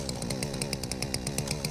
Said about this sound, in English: Let's use our chainsaw to cut it